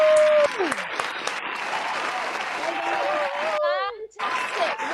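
Applause and cheering for Westwood Secondary School at a virtual celebration, with many people clapping steadily and loudly for several seconds under scattered voices and whoops.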